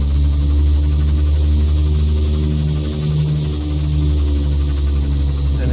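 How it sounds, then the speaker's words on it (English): Aircraft engine of an FA Tensor 600X in the X-Plane flight simulator, a steady loud droning hum with a slight dip midway, continuous and close, no speech. "Put some throttle on."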